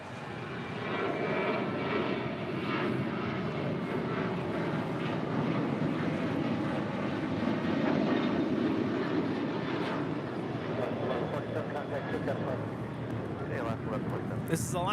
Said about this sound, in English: This is Alaska Airlines 1147 departing to Seattle on a 737-900 ER.